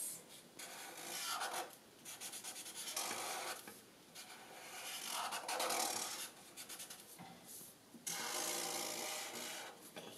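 A chisel-tip marker drags thick strokes across paper, in repeated rasping scratches in bursts with short pauses, close and fairly quiet.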